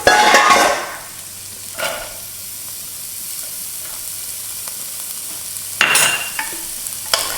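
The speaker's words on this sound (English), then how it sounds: "we'll put the onions in and the carrots. And we'll cook them for a minute" Onions and carrots for a beef and broccoli stir fry are stirred in a hot pan, giving a sizzle with scraping bursts near the start and again late, with a quieter steady fry between.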